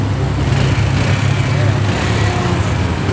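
A Honda Wave 125 motorcycle engine idling nearby, a steady low rumble holding even and loud throughout with no pauses.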